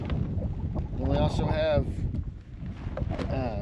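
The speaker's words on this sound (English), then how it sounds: "because it is quite windy here, as you can hear right now." Strong wind gusting outdoors around a hoop-house pig shelter built from cattle panels and T-posts, roaring steadily through the whole stretch under a voice talking nearby.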